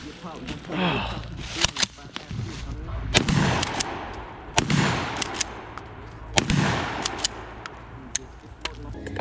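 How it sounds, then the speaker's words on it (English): Repeated loud shotgun blasts firing buckshot at an outdoor shooting range, several sharp booming reports spaced a few seconds apart with echoing tails, mixed with people talking nearby. "We just shooting."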